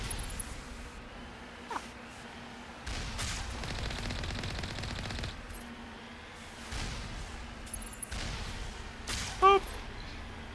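Smart turrets firing in a sci-fi video game fight: fairly quiet bursts of rapid mechanical gunfire come in separate stretches over a steady low background hum, with one brief louder blip near the end.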